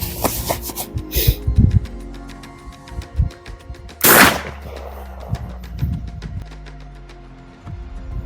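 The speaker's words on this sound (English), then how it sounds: "That was the Hatsan Bulltac pump action shotgun in 12 gauge." A Hatsan Bulltac 12 gauge pump action shotgun fires a slug outdoors, giving one sharp, loud blast that trails into a rolling echo. Scattered shorter bangs and some background talk sit around the shot.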